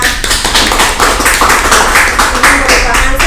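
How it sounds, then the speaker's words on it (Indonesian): Audience applause fills the room at an event in Kelapa Gading, a dense, steady patter of many hands clapping for about three seconds, loud and continuous with no pause. "Tepuk tangan dong semuanya."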